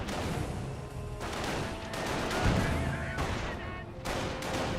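Battlefield gunfire and mortar fire in Company of Heroes, scattered shots and dull heavy impacts at middling distance under ongoing game noise, with a muffled thump near the middle.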